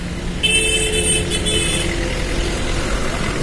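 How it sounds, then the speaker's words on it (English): Passing local city buses and other vehicles on a Kolkata street near Dharmotala in the morning, with a loud close rumble and a brief bright horn toot early on, then steady traffic noise. "The local buses are going."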